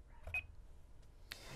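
Pressing OK on an Interlogix Simon XT alarm panel keypad gives a short, faint electronic beep. A few soft clicks and a second brief tone follow in a quiet room.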